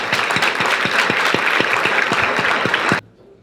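Applause from a panel audience rolls on for about three seconds, dense clapping with a few sharp individual claps standing out, then cuts off abruptly to near silence.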